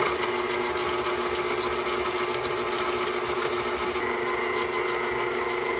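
Snickerdoodle cookie dough with vanilla extract is mixed, most likely with an electric mixer that gives a steady, close motor whir with no breaks.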